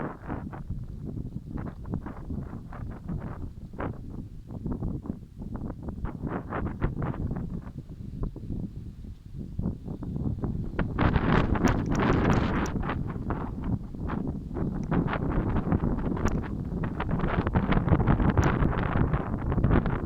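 Gusty wind buffets the microphone in rapid, rough bursts, growing stronger and fuller partway through and staying loud to the end.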